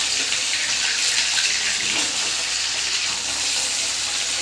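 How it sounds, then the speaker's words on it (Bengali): Steady, dense frying hiss of pabda fish (butter catfish) in oil fills the whole stretch, a bright crackling sizzle close by with no talking. "এভাবে আস্তে আস্তে মাছগুলো আমি ভাজা করে নেবো"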